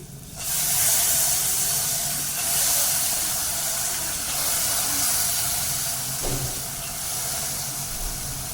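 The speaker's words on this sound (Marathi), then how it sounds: "आणि वाफेवरती शिजवून घ्यायचे" Steam hissing loudly and steadily from a pot of bitter val beans and potatoes cooking in traditional Malvani style, a continuous close hiss with slight swells and a small knock near the end.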